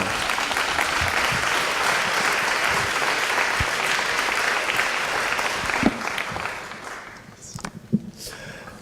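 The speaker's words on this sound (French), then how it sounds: "On l'applaudit très fort." Audience applause at an awards ceremony, a dense, sustained wash of many hands clapping that thins out and breaks into scattered claps toward the end.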